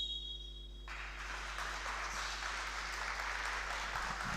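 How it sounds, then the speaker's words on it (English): Applause from spectators before tip-off of a basketball game between Charnwood College Riders and Derby Trailblazers, starting after a brief lull and swelling into a steady wash of clapping over a constant low hum. "And with a huge round of applause"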